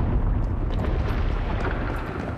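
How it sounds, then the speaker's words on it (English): A continuous deep, rumbling roar of explosions fills the online survival shooter game Once Human, dense and loud throughout without pause or speech. "Explosions! I hear explosions!"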